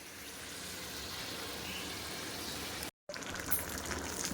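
Water bubbling in a pot where pumpkin and prawns are simmering, a steady faint seething hiss broken by a brief dropout near the end, then resuming.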